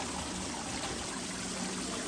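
Water spills and splashes continuously off a highbanker recirculating setup used for desert mining, a steady dense trickling rush up close with no talking.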